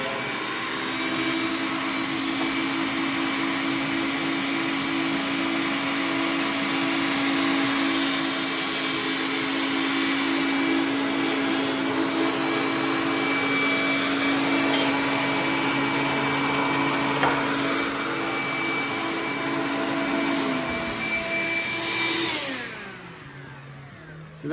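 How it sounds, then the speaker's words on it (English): A shop vacuum roars steadily for dust collection on a Grizzly G0940 planer, a loud continuous whine with a high tonal hum that holds for about twenty seconds, then winds down at the end. "So I'm going to turn my trusty vacuum on."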